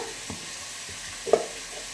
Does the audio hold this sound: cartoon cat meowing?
no